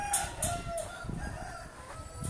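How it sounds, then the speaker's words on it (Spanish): Hens cluck in a farmyard pen, a soft continuous chorus of overlapping clucks with a couple of sharper squawks, fairly close and moderately quiet. "¿Estas son gallinas y pollas o ya son, son gallinas."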